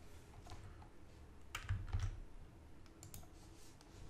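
Quiet clicking of a computer keyboard as a short word is typed, a few soft close keystrokes with a small burst in the middle, no talking.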